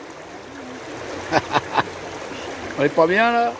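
A river's water streams and trickles steadily in the background, a soft continuous wash beneath someone speaking French, with a few short clicks and brief voices rising near the end.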